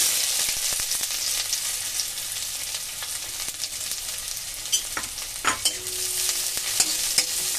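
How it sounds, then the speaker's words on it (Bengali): Chopped onion and panch phoron frying in hot mustard oil, a loud, steady close-up sizzle with occasional stirring clatter and scrapes throughout, no voices. "লাল লাল করে ভেজে নেব"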